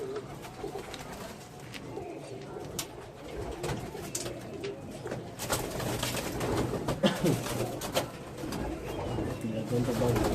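Pigeons coo softly in a busy outdoor setting, with birds calling intermittently amid background noise and occasional voices.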